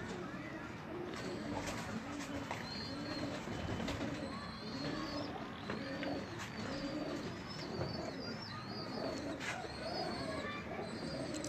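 Pigeons kept by a fancier in Faisalabad coo steadily at close range among chirps and a busy background, while someone talks over them throughout.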